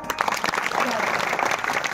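Dense audience clapping at a Marathi kirtan fills the space, steady and fairly loud, with a voice talking over the applause.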